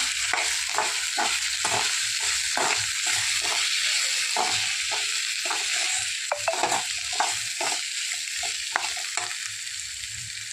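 Green corn chevdo fries in a pan while turmeric is mixed in, with a constant sizzle and rhythmic scraping stirs repeating close and clear throughout.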